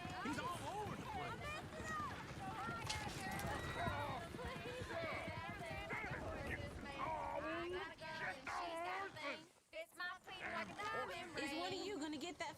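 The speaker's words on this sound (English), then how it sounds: "Is one of you going to get that fella's horse?" Horse hooves clip-clop steadily in Red Dead Redemption 2, a continuous rhythmic trot under almost constant overlapping speech and crowd chatter, with a brief drop near the end.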